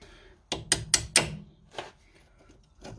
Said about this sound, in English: Then give it a tap with a hammer.